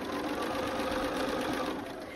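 A sewing machine runs in one steady continuous burst while stitching quilt pieces for a stars-and-stripes star block, a close, even mechanical whir with no pauses.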